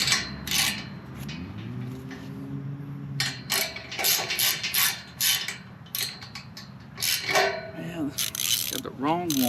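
A ratchet socket wrench works a half-inch nut and bolt, giving bursts of quick clicking and metallic creaks, close and moderately loud, with pauses between the strokes.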